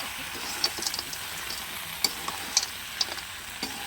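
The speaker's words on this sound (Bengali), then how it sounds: "নাড়তে হবে, নয়তো ধরে যাবে।" Raw mango pickle sweetened with sugar cooking over low heat, a quiet steady sizzle punctuated by light, irregular taps and scrapes of a spoon stirring the pan.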